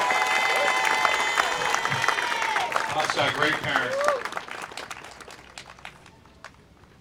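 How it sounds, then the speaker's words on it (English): Applause from an event audience honoring Julio and Felicia at a community day celebration, a broad crowd roar with clapping and some cheering under someone speaking, slowly fading out toward the end. "Please join me in a big round of applause for Julio and Felicia."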